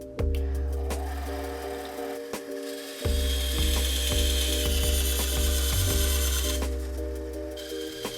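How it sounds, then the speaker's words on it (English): A bandsaw cuts out a wooden board pattern for an epoxy resin mold, its steady motor hum broken by repeated short cutting passes and brief pauses, close and continuous throughout. "The first thing I'm going to do is use my bandsaw to cut out the pattern for our mold."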